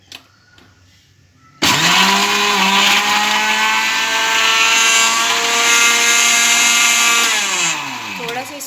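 An electric grinder whirs into action after a quiet start, a loud, steady high-pitched motor whine as it grinds leaves for raita, holding constant before beginning to slow near the end.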